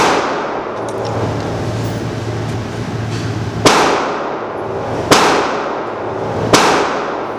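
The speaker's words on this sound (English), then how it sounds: "Shoot yours first." Three sharp handgun shots ring out a second or so apart at an indoor shooting range, each a loud crack with a short echoing tail over a low steady room hum.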